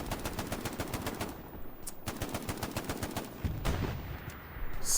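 Rapid machine gun bursts in the WWII shooter Hell Let Loose, sustained loud rattling fire with short pauses, layered with distant explosions and battle noise throughout.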